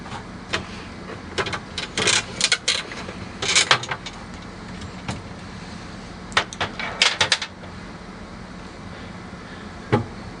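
A damper being removed from a Manitowoc Neo ice machine by loosening a thumb screw: scattered plastic clicks, rattles and knocks in irregular clusters over steady background hum, close up with no talking.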